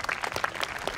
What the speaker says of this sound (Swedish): Och så klappar vi händerna.